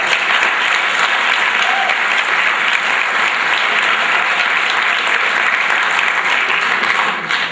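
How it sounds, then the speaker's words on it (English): A large audience gives a loud, sustained round of applause for senior athletes at a school sports awards ceremony, with dense, steady clapping that fills the whole stretch and eases only slightly at the very end. "I'd like to have a nice round of applause for all those seniors that give us all those time"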